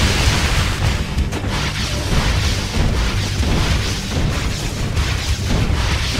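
A missile launches and explodes in the video game Red Alert 2, heard as a dense, loud, continuous roaring rumble with no voices over it.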